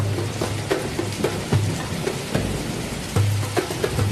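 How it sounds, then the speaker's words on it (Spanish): Heavy rain pours down steadily after a long drought, a dense continuous hiss of water with scattered louder drops and faint low rumbles throughout. "el cielo se estremece y comienza a diluviar"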